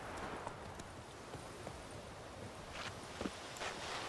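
Horse hooves clip-clop at a walking pace in The Witcher 3: Wild Hunt, irregular thuds over a steady rustling ambience, fairly close but not loud.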